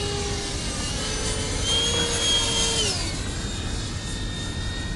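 An 89mm electric ducted fan model plane flies overhead at low throttle, giving a steady, loud whooshing whine with a rising and falling pitch tone as it passes.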